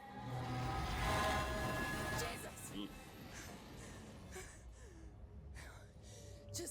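A tram rushing past in Alien: Isolation, a loud broadband roar that swells and then recedes, followed by quieter mechanical clanks and hisses, with a voice and breathy sounds over it.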